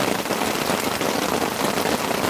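Heavy rain pours steadily on a campsite beside a campfire, a loud, dense, continuous hiss of drops on surfaces with no pauses.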